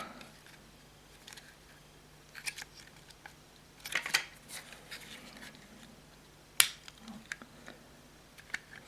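Ratchet joints on an X-Transbots MX-II Andras toy robot figure click in short, quiet bursts, a few sharp snaps scattered among softer handling noises.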